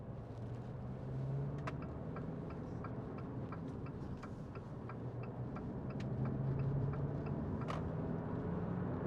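Small plastic clicks from the terrain-select rotary control in a 2015 Jeep Renegade 2.0 MultiJet II 4WD, a series of faint, regularly spaced ticks heard inside the cabin over a steady low engine hum.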